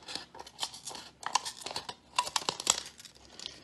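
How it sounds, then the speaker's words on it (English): Scissors snipping around the bottom rim of a plastic cup, a rapid series of close, crisp cuts and plastic crackles with brief pauses in between. "we're gonna wanna cut around the very bottom rim of the plastic cup here"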